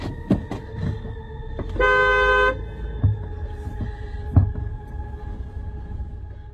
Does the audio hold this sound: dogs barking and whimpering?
no